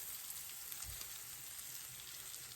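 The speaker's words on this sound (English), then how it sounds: "we're going to cook the onions in the same skillet that we cook" Onions fry in a skillet already used for shrimp, giving a faint, steady sizzle with soft crackles and no talking.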